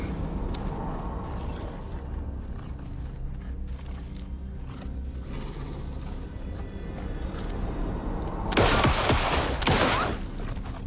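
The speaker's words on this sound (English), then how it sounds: "How many bullets do I need to put into these things? The whole clip?" Sustained gunfire in Alan Wake II, with a rapid burst of shots fired at a single enemy near the end, loud over a low, rumbling game ambience.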